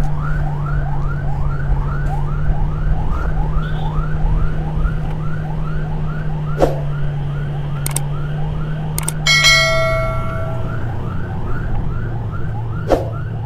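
Ambulance siren wailing in a rapid repeating cycle over a low steady engine drone on a village road, close and loud, with a few sharp clicks and a brief horn-like tone near the end.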